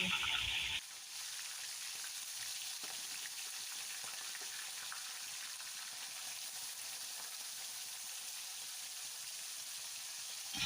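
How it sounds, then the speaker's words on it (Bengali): Bhetki fish bones sizzle and fry steadily in hot oil in a wok, a constant crackling hiss after a short louder burst at the start. "মাছের কাঁটাগুলো আমি কড়াইতে দিয়ে ভালো করে ভেজে নেব"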